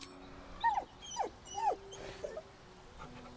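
A dog in Baldur's Gate 3 whines in three rising-and-falling whimpers, fairly close and clear, with a faint bit of background noise behind them and no talk.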